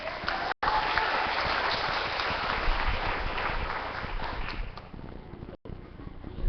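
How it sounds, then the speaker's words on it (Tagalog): An audience bursts into sustained clapping that fills the whole stretch, the dense applause briefly cut off twice before it trails off a little toward the end. "Kaya ang nagagalak at naaliw ay pumalakpak nga."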